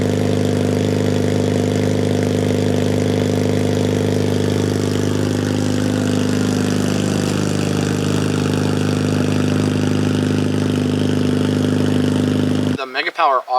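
An 8th-generation Honda Civic Si with a K20 engine and a 3-inch Skunk2 MegaPower RR catback exhaust idles steadily with a deep, throaty drone, slowly shifting pitch, then cuts off near the end.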